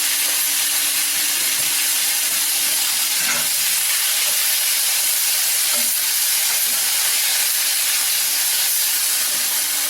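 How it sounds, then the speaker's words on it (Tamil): Tomatoes sautéing in a kadai with salt, giving a steady, close hiss of frying with a few faint clicks and stirring taps over the continuous sizzle. "தக்காளி மசிஞ்சு அதோடைய கலர் மாறுற வரைக்கும் நல்லா வதக்கும்"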